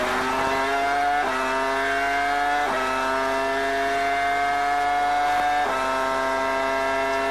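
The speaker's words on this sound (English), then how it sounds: "interesting to listen to the engine, the Ferrari engine characteristic" A 2002 Sauber Formula One car with a Petronas engine screams at high, steady pitch, with several quick gear-shift dips as it accelerates, loud and close with no talk.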